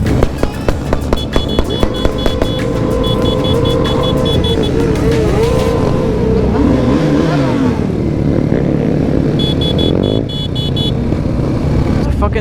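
Hundreds of motorcycles, sport bikes and a 2020 KTM 500 EXC-F among them, roll together on a 500-plus-bike season-opener group ride. The engine roar is dense and continuous, with sharp revs and pops at the start and rising and falling throttle throughout.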